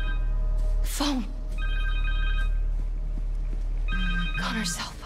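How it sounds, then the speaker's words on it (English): A cell phone rings in the game Marvel's Spider-Man 2, with steady tonal ring bursts repeating twice over a constant low background of game music and ambience. "Connor's cell phone"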